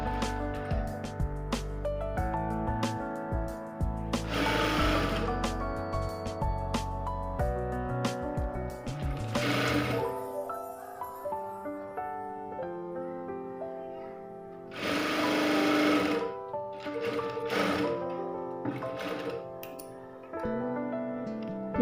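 A sewing machine stitching the lining of a blouse, running in several bursts of rapid whirring, separated by pauses, over steady tonal background sound.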